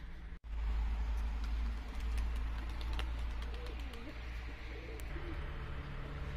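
Bozdumanli tumbler pigeons cooing, soft low warbling coos close by over a steady background hum, with a few faint higher chirps and clicks scattered through.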